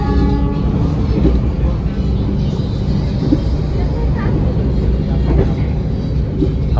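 A passing train rumbles loudly and steadily close by, heard from aboard the Harina economy-class train, with a low continuous roar and rattling, while people talk underneath.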